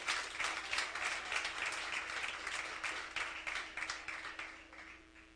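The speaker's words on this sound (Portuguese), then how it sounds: "Aplauda o Senhor, aleluia," A church congregation applauds during a sermon, dense sustained clapping filling the room at a moderate level, slowly thinning toward the end.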